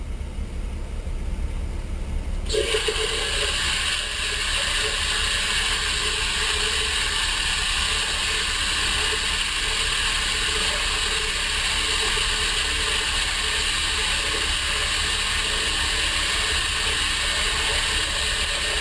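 A NutriBullet blender motor whirs loudly and continuously while blending a smoothie, a dense mechanical roar that holds steady for the whole stretch, with no talking.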